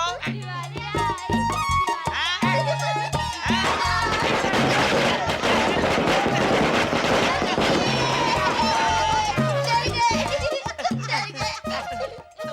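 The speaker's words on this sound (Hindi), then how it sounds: "ये क्या पटाखे चला रहे हो?" Firecrackers and other festival fireworks go off in loud, crackling bursts, with rapid pops at first and then dense continuous crackle that builds into a sustained barrage before thinning out, while people talk and shout over it.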